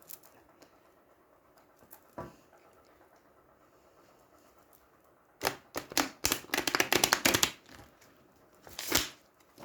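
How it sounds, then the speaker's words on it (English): Quiet room, then a burst of rapid papery riffling and slapping of tarot cards being shuffled, with a few soft taps before and after. "give them a bit of a shuffle"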